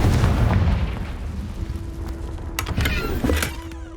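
A Confringo fire spell bursts in the Hogwarts Legacy game, a loud deep rumbling boom that fades into crackling debris and a thin lingering tone.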